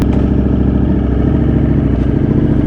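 A motorcycle of over 200 horsepower rumbles steadily on a morning commute, a loud, close, continuous engine drone with a throaty mid-low growl and no talking.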